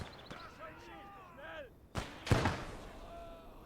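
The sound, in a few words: grenade explosion in video game Gates of Hell: Ostfront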